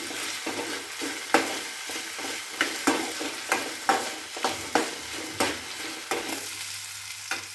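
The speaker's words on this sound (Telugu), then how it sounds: "సాల్ట్ వేసుకొని ఫ్రై చేసుకుందాం." Potato pieces sizzle in a hot frying pan with salt while being stirred, a steady crackling hiss broken by regular sharp scrapes of a spatula against the pan roughly every half second, close and clear with no voices.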